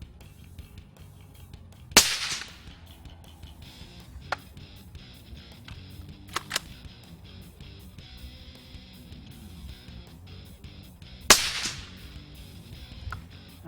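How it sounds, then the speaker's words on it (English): Suppressed rifle shots heard from the shooter's position, each a sharp whip-like supersonic crack followed by a dull slap of the bullet hitting mud, a few spaced loud reports with quieter clicks between them. "you heard the slap of the bullet against the mud over there"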